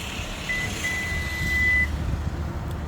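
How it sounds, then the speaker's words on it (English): A loud truck passing nearby produces a low engine rumble with a thin, steady beeping tone running through it for over a second, heard outdoors with no speech. "Have to excuse that loud truck there."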